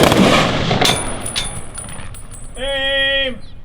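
A rifle volley fired at an outdoor Memorial Day ceremony cracks loudly at the start and echoes away, followed by a shouted command.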